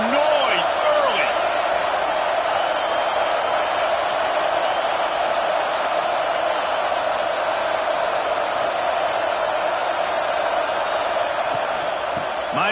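A stadium crowd at a football game roars in a dense, sustained wall of noise with scattered whistles and cheers, while a commentator talks over it.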